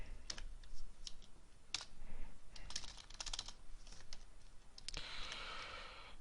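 Typing a command into an Ubuntu terminal on a computer keyboard, scattered quiet key clicks in uneven bursts, close but faint, with no talking.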